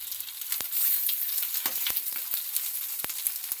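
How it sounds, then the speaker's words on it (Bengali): Vegetable cabbage momos frying in oil on a hot tawa, a continuous bright sizzle with scattered sharp pops and crackles, close and steady throughout. "একটা একটা করে মোমো দিয়ে দিচ্ছি তাওয়াতে ভাজার জন্য।"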